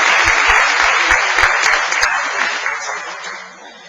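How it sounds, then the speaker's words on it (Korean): A church congregation at a pastor's installation service applauds in celebration, with dense, sustained clapping that fades gradually over a few seconds and a few low thumps near the start. "우리 다 같이 축하의 박수로 영광 올리겠습니다"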